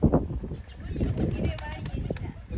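Pigeons let out of their enclosure give soft, low cooing calls alongside brief flutters, close by, mixed with light rustling and someone talking nearby.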